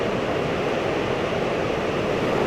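Water gushes steadily over a river weir on the River Tone in Bradford on Tone, Somerset, a constant close rushing roar with no breaks.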